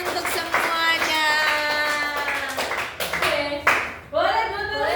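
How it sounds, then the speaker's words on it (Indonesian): A group clapping hands together in a classroom microteaching session, bright claps mixed with loud children's voices and chatter throughout. "Oke, tepuk tangan untuk semuanya."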